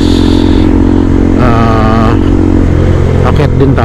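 A KTM 390 Adventure motorcycle engine drones steadily while riding, with a constant loud hum and a brief rise in pitch partway through as it revs, wind noise around it.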